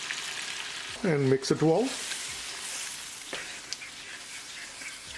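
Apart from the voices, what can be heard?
shrimp frying with garlic and spices in pan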